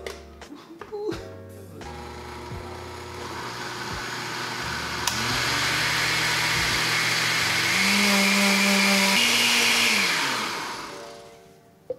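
A blender making a protein smoothie starts up after a few clicks and handling noises, whirring loudly and changing pitch as it runs, then winds down near the end.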